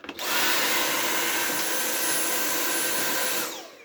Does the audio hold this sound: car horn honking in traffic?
no